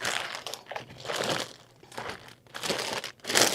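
A big bag of supplies is rummaged through, with bursts of crinkling and crumpling plastic rising and falling in uneven waves, close and fairly quiet.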